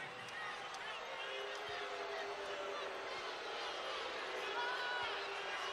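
A basketball arena crowd at a UConn women's game at LSU rumbles with a sustained, disgruntled roar after an offensive foul call, steady and fairly distant, with faint sneaker squeaks and thuds mixed in.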